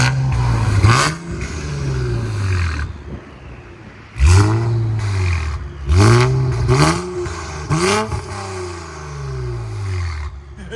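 A 2017 Infiniti Q60 Red Sport with a 3.0L twin-turbo V6, catless, revving with its exhaust valves open. A series of sharp, loud blips rises and falls, some in quick succession, close by.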